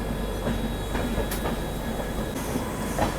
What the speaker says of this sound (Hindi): पैरेलल डिपार्चर हुआ है अपना शताब्दी अपना राजधानी के साथ, सियालदा राजधानी के साथ।